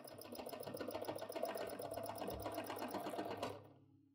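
A small sewing machine quilting a large, bulky quilt runs in a steady, fast needle rattle with a motor drone for about three and a half seconds, then stops abruptly.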